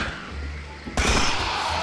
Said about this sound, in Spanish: Además se lo ha llevado en la cabeza el disparo.